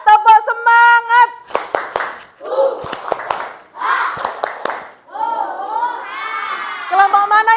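A classroom of Indonesian schoolchildren claps out a rhythmic cheer pattern in quick, patterned bursts, with a teacher's voice and children's calls mixed between the claps.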